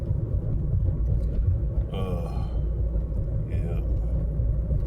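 Steady low rumble from inside a moving car, road and engine drone filling the cabin throughout, with a short spoken word over it partway through.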